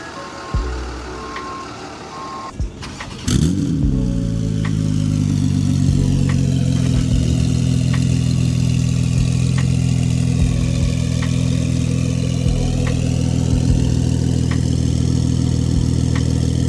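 A Porsche GT2 RS Clubsport engine cranks and fires up after a few quiet seconds, then settles into a loud, close, steady idle with a deep rumble and faint periodic ticks.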